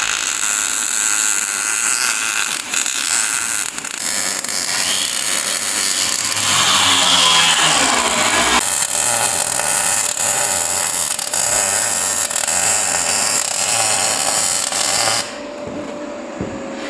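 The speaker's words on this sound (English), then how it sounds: "But I'm gonna weld this," Welding on the front end of a Duramax-powered rat rod truck: a loud, steady, dense crackling buzz that runs continuously with slight changes, then drops off abruptly near the end, with no talk.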